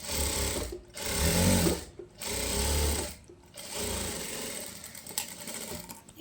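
A sewing machine stitches a seam on palazzo pants for a young girl's outfit, running in several fast whirring bursts separated by short pauses, close and without speech.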